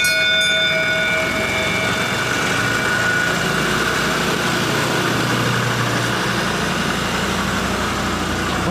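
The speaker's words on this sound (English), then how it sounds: "That sounds almost 5-cylinder-ish to me, but nonetheless, off goes the little train" A small road train's engine idles and revs with a steady rumbling drone, close by, pulling away under faint wind and background noise.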